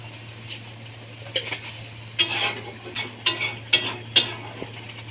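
A spoon stirs carrot halwa in a metal pot right after 100 g of sugar goes in, giving a close series of irregular scraping clinks and knocks over a low steady hum, with no talking.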